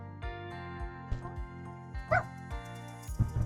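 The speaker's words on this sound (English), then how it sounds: "Doggy decided to come visit me." A dog whines and yips in short, high bursts close by, with faint voices in the background.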